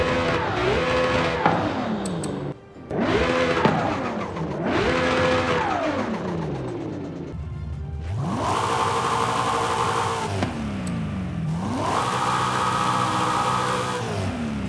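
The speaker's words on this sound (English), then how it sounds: "you can now preview what your car sounds like while you work on it." A car engine sound preview in Forza Horizon 5 repeats revving bursts, each rising and falling in pitch, with the later runs louder and rougher, close and alone.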